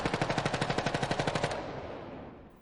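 A short-barrelled automatic gun fires a rapid burst of about fifteen evenly spaced, loud shots, then the roar trails off into a fading echo.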